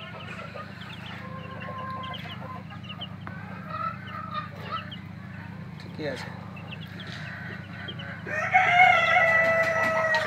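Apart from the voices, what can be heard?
Sonali chickens clucking and rooster crowing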